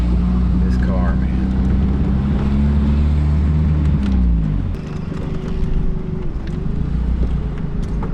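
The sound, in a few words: Volvo engine running rough, struggling to idle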